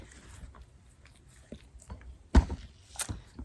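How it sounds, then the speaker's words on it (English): A dog chews on a toy nearby, giving faint scattered gnawing and crunching sounds with a couple of sharper bites toward the end, mostly quiet between. "that annoying noise, by the way, is my dog chewing on a toy"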